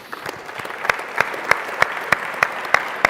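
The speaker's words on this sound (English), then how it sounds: "really deserves a big round of applause" An audience at the PES Social Summit in Porto keeps up a dense round of applause. Sharper, regularly spaced claps stand out above the steady wash of clapping, and there is no talking over it.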